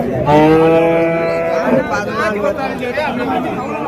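A cow at the Uthangarai cattle market gives a loud, drawn-out moo up close, followed by market chatter and people talking nearby.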